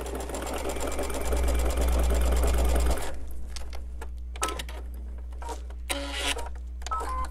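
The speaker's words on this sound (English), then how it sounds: "put them through the machine, not at the same time, but one right after another without cutting my thread" A sewing machine chain-piecing half-square triangle quilt pieces runs in a loud, steady, rapid stitching whir for about three seconds, then stops, leaving quiet fabric handling and faint clicks.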